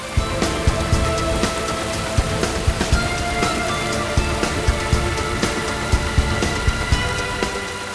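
Steady rain pours down onto a surface with scattered louder drops and patters spread throughout, a dense continuous wash of sound with no speech.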